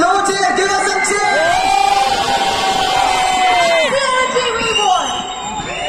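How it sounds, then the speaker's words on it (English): Crowd at a college battle-of-the-bands event cheering, whooping and yelling loudly throughout, a dense roar of many voices close around, with a voice on a loudspeaker urging them on. "Come on, guys, give us some cheer."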